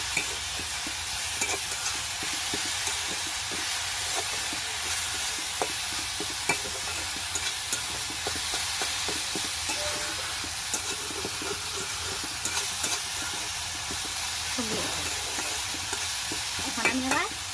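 Kalmi shak, water spinach greens, stir-fried in a pan, with a continuous close sizzle and repeated scraping, tossing strokes across the whole stretch, no voices.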